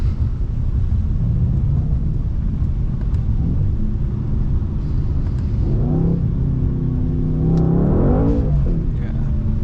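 A 2019 Mercedes C63 AMG engine accelerates on a wet road in the rain, a loud steady rumble rising into revving pitch sweeps near the end, heard from inside the car.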